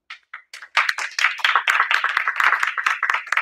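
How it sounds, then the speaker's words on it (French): A small audience at a neuro-linguistic programming session starts with a few scattered claps that quickly build into close, lively applause, lasting to the end. "On peut l'applaudir"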